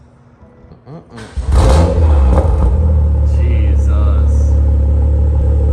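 A 2017 BMW M2 in Sport Plus mode with its N55 engine and aftermarket exhaust fires up after a starter whir, then settles into a loud, deep, steady idle close by, with a brief exclamation from a voice.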